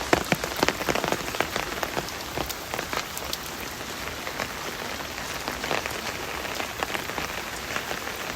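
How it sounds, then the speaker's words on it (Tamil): Heavy rain pours down steadily, with dense drops pattering loudly on surfaces and occasional sharper splashes throughout during a power outage at home, with no voices heard. "சரியான மழை."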